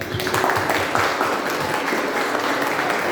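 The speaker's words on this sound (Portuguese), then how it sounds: "Salva de palmas." Applause from an audience at a Portuguese-language gathering, a steady dense round of clapping lasting the whole moment with possible voices mixed in.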